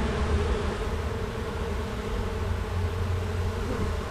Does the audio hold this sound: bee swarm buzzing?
yes